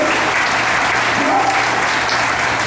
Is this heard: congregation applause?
yes